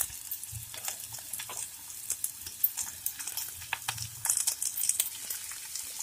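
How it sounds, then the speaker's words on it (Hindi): Cut parwal (pointed gourd) frying gently on a low flame, a soft sizzle with scattered crackles and pops and light stirring scrapes, quiet and close throughout with no speech. "ये देखिए दोस्तों, इस तरह से हल्के हल्के लो फ्लेम में इसको फ्राई कर लेंगे"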